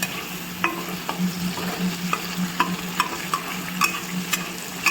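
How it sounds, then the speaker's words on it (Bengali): Chicken pieces coated in soy sauce and ketchup stir-fry in a pan, a steady low sizzle broken by intermittent scraping clicks of a spatula, close and fairly quiet with no talking. "সোয়া সস আর কেচাপটা দিয়েছি, এবার হালকা হালকা ফ্রাই করে দিচ্ছি।"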